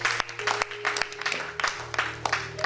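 Church congregation clapping during an Easter Sunday worship service, a dense run of rhythmic hand claps with steady sharp peaks, a sustained low musical tone underneath, no talking.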